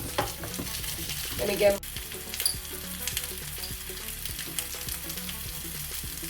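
Small sweet peppers sizzle as they fry in a pan, a steady close crackle with a stirring scrape, a brief louder burst early on, and light background clatter under a short spoken phrase.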